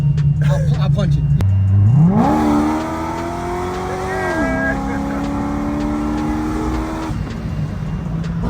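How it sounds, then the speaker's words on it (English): A supercharged C6 Corvette engine winds up hard from idle, its pitch climbing steadily, holding high, then dropping and climbing again before fading into road noise, loud and close inside the car. "if someone pulls up to me and I think they're revving, I'll punch it"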